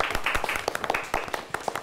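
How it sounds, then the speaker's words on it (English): Scattered applause from a small studio audience at a high-school quiz show, greeting a team's coach: individual sharp claps pop out unevenly rather than blending into a dense roar, fairly close and brief. "Let's give him a nice round of applause."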